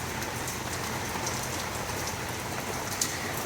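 Steady rain falling outdoors, a constant even hiss of drops on surfaces with no thunder, continuous and fairly close for the whole stretch.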